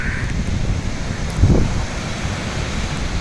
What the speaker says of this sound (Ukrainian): Ой, вітер сьогодні, дощ.